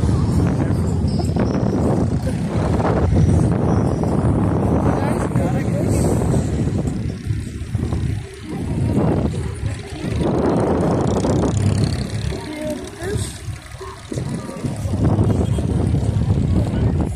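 Strong wind buffets the microphone over a steady engine rumble on a moving boat in Dubai, with a voice speaking now and then.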